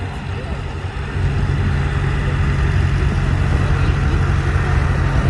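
A Farmall tractor with front wheel assist rolls past in a vintage farm equipment parade, its engine growling low and steady, swelling to a louder, continuous drone after the first second.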